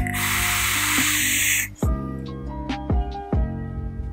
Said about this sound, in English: Wonderful vapor production, wonderful.